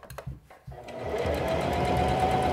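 A Singer Classic 44S sewing machine runs steadily while sewing a hem around a thick circle of fabric, starting after a few soft handling knocks and then humming continuously, close and moderately loud.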